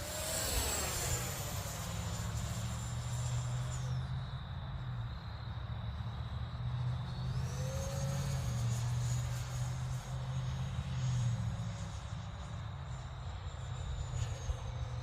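A Freewing 70mm F-16 model jet's engine whines steadily at a distance, its pitch sliding up and down as it passes and turns, no voices.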